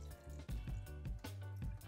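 Starchy rinsing water is poured out of a container of washed rice, a close, continuous splashing gush with a few bubbling surges.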